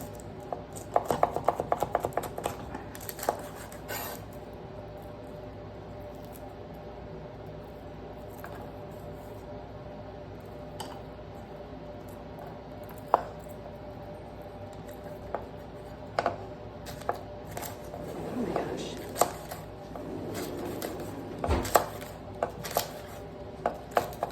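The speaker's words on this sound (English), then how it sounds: "I'll just cut the root part off of the leeks" Knife cutting through woody leeks on a board, trimming off the root ends: scattered crisp chopping clicks and short crunches, a few sharper hits near the end, fairly close and quiet with no talk.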